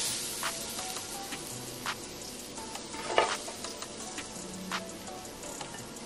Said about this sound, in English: Just gonna add our rice in here.